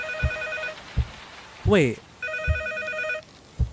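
A telephone rings in a scary video game, repeated trilling bursts near and clear, with dull thuds between them and someone briefly speaking over one pause.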